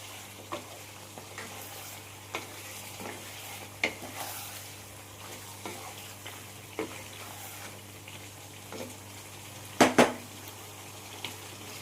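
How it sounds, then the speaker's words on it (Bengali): Spiced chicken being stir-fried in a pan over medium heat, Mughlai style: a low steady sizzle broken by spaced spatula scrapes and knocks against the pan, with a sharp double clatter near the end. "এবার সমস্ত মশলা আমি চিকেনের সাথে ভালো করে কষিয়ে নেব 4-5 মিনিট ধরে।"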